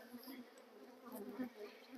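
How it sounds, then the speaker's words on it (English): Bees buzz steadily around an opened beehive during brood nest management, a dense, continuous hum close by with slight swells in loudness. "it does make a bit of a chaotic situation because of the bees flying everywhere"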